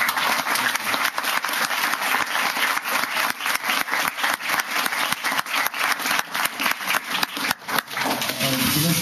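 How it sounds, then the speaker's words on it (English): A crowd applauds veterans at an outdoor Flag Day gathering, dense clapping holding steady and loud for several seconds before thinning near the end. "How about a round of applause for all our veterans?"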